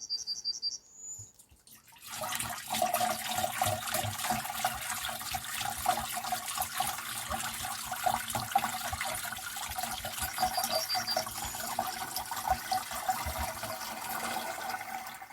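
Week-old goat milk, about a liter, pours into a container in a steady liquid stream that starts after a brief pause and runs on loud and close, with small splashing flickers and no talking.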